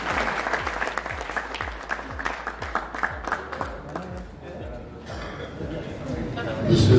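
Audience applause greets the governor at a cricket league shirt launching ceremony, a busy patter of clapping heard alongside a steady rhythmic thumping beat, with the crowd noise swelling louder at the very end.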